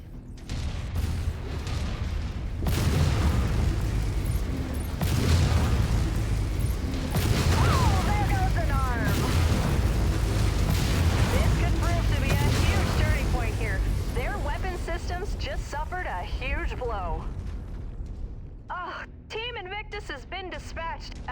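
Heavy booming autocannon shots from a mech in a MechWarrior 5 Mercenaries Solaris arena fight repeat at irregular intervals over constant battle rumble, with a voice talking over much of it.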